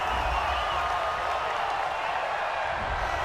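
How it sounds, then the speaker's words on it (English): A football stadium crowd reacting to a penalty call at a Seahawks versus Saints NFL game, a dense, continuous roar of many voices filling the space at steady loudness. "Well, this crowd does not like that call."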